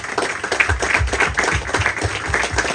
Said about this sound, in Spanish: Pues vamos a un aplauso a San Nicolás de Bari